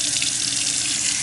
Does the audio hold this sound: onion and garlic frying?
no